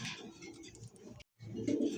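A pair of boot-beaked pigeons coo softly and continuously at close range, with a brief pause in the middle.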